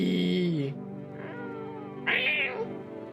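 A cat in the video game No, I'm Not A Human gives two distinct meows, a longer drawn-out one followed by a shorter, brighter one, close and clear with no one speaking.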